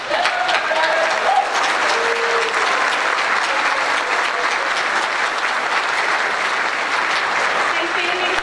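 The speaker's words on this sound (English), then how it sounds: "graduates, could you please stand and applaud your teachers?" Graduates at a technical school's 2023 graduation ceremony applauding their teachers, loud sustained applause from a large crowd filling a hall, with cheers and voices mixed into the steady roar.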